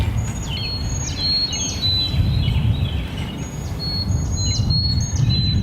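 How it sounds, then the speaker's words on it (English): Birds singing around a vegetable pea garden, repeated bright chirps and whistled phrases coming from a distance above steady low outdoor rumble, with no voices. "You can hear the birds singing"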